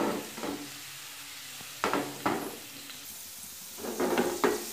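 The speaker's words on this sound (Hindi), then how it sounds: "प्याज को हम फ्राई कर लेते हैं गोल्डन से" Onions fry in a pan on the way to light golden, with a soft steady sizzle broken by several louder bursts as they are stirred and tossed, close by.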